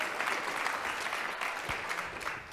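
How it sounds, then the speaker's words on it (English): Conference session audience applauds steadily for incoming presenters, a dense, moderately distant wash of clapping that carries on evenly throughout. "You clap now."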